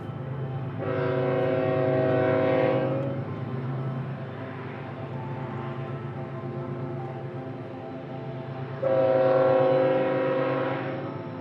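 A freight train horn blares in two long harmonic blasts on the Tehachapi Loop in California, with the rumble of the approaching train between them, loud and steady.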